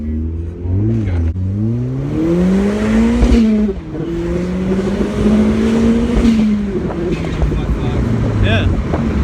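Turbocharged Mazda MX5 accelerating hard from a standstill on a wet, tree-covered road, engine pitch climbing through several gear changes, loud and close with wind buffeting and road noise throughout.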